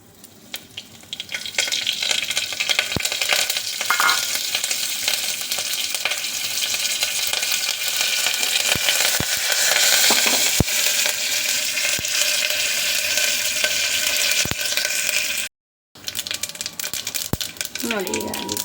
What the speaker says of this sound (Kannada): ನೋಡಿ, ಈಗ ಎಣ್ಣೆ ಕಾದಿದೆ. ಈಗ ಈ ಒಗ್ಗರಣೆ ಐಟಮ್ಸು ಎಲ್ಲ ಒಟ್ಟಿಗೆ ಹಾಕ್ಕೊಬಿಡೋಣ ಎಲ್ಲ.